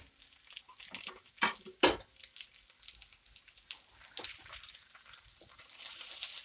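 Potatoes and onions sizzle in a covered pan and are flipped. Soft steady crackling runs throughout, with two loud scraping clatters of the turn close together early on, then lighter stirring scrapes.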